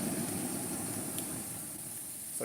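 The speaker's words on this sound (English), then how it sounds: "So I'm just going to turn off the exhaust" A kitchen exhaust fan runs steadily at close range, a continuous even whir and hum with a faint high whine on top, unbroken throughout.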